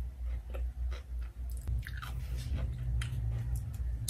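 Someone chews a mouthful of homemade tuna spread with onion, the close, crunchy bites and moist chewing repeating steadily with no talk.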